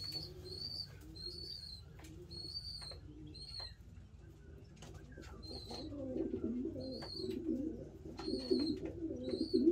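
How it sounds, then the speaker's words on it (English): Young pigeon squeakers in a loft, repeated thin high-pitched squeaks in short bursts over a low cooing and steady background hum, moderately near, with the cooing growing louder toward the end. "those little squeakers in the background, I don't know if you can hear them, but they are so loud"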